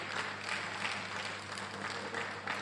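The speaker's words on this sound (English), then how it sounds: "Please, a round of applause for Dr." A round of applause rises at a pharmacy association's annual general meeting and scientific conference in Lagos, a steady wash of clapping held at a moderate distance in a large hall.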